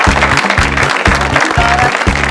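A studio audience claps to welcome the guest Amber onto a comedy show set, steady applause under a loud, rhythmic musical beat playing throughout.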